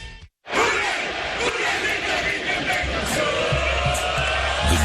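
A large tailgating crowd of Bengals fans chants loudly and continuously outside Paul Brown Stadium before a Chiefs game, a dense roar of many voices close by, with rhythmic shouted bursts carrying throughout.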